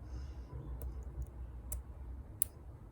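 Faint, sparse clicks of a lock pick against the pins of a Brama dimple challenge lock, three or four small ticks spread over a quiet, low background hum.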